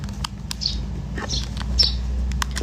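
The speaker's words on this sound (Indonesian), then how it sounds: "Suara burung guys, karena ini lagi di desa gitu." Faint, scattered bird chirps in short bursts over a low steady hum and light clicks, with no voices, in a village.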